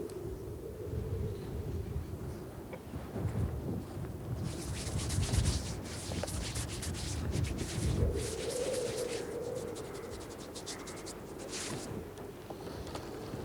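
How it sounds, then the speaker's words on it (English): Strong, keen morning wind on Bardsey Island buffeting outdoors, a steady low roar with gusty rumbles and fluttering bursts, no voices. "The wind is keen for the morning wash."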